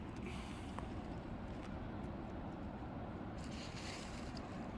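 Steady surf from the ocean far below the Cape Lookout cliffs, a continuous low wash of waves mixed with wind rushing across the microphone, with no voices.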